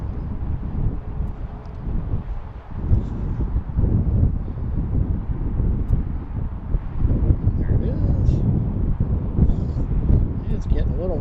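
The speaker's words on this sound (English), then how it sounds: "Getting a little windy right now." Loud, blustery wind rumbles and buffets against the microphone throughout at BWI airport, with a distant aircraft drone underneath.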